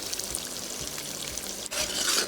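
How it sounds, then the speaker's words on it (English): Something fries in a pan before eggs are added, a steady close sizzle and crackle that briefly dips and then swells louder near the end. "So I'm going to fry this until they all look dead before I add in the eggs"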